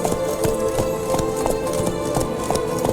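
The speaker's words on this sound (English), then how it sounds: "Whoa there, Roach." Roach, Geralt's horse in The Witcher 3: Blood and Wine, gallops with a loud, rhythmic clip-clop of hooves and a steady beat of repeated strikes in the game.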